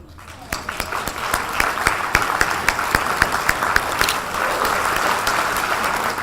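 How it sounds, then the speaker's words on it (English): A crowd applauds, many hands clapping with sharp distinct claps at first that thicken into a steady wash, fairly loud and close. "another round of applause for our entertainers"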